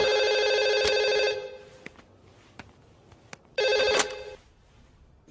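A telephone rings in two loud electronic bursts, the first lasting about a second and the second returning after a pause, with faint clicks and quiet room sound between them.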